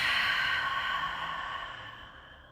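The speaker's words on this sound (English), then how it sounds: "Holds and exhale through the mouth." A deep, breathy exhale through the mouth during a guided breathing exercise, one long airy rush of breath that is loud at first and slowly fades over a couple of seconds, with no talking.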